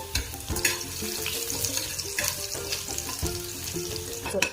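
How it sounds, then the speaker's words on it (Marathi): Garlic fries in hot oil with a busy, crackling sizzle, punctuated by quick scraping strokes of a spatula as it is stirred in the pan. "तेल चांगलं गरम झाले. त्याच्यामध्ये लसूण, आता लसूण हलवून घ्यायचा."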